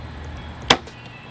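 An archery arrow with clipped fletching is shot and hits a target with a single sharp, close thwack. Faint outdoor background noise is audible before and after the impact.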